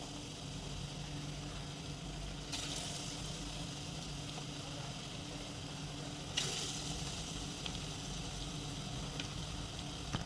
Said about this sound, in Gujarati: હવે આપણે એને ફ્રાય કરવાના છે